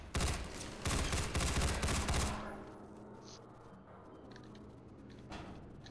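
Enemies firing guns in Half-Life 2, with loud rapid automatic bursts for about two seconds that then stop and leave quieter ambience with a few faint clicks.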